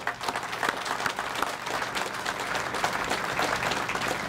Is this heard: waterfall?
no